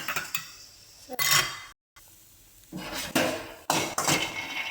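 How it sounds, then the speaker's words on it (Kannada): Peanuts roast in a pan while a spoon scrapes and clinks against the metal in uneven bursts close by, with one sudden brief dropout midway; no speech. "ಕಡಲೆ ಬೀಜ ಬ್ರೌನ್ ಆಗೋವರೆಗೂ ಹುರ್ಕೊಳ್ಳೋಣ"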